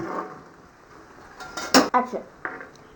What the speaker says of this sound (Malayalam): അപ്പോഴാ ബീഫ് വറുത്തത് റെഡിയായി. ഇതാ ഞാനത് കോരുവാണ്.